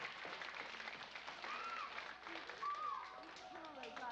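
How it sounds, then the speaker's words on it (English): Scattered, fairly faint clapping from an audience at a magic show, with excited voices and children's calls mixed through it. "So let's give Spotty a big round of applause for coming out"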